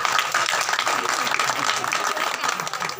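An audience at a Hindi comic poetry gathering (hasya kavi sammelan) in Aligarh breaks into hearty, steady clapping, a bright continuous patter of many hands that fills the room at even loudness throughout.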